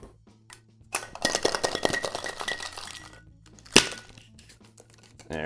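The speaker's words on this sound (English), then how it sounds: "Anyways, we're gonna shake that up." A cocktail with lime juice is shaken hard with ice in a shaker, giving a dense burst of rattling, clinking ice for about two seconds, then a pause and a single sharp knock near the end.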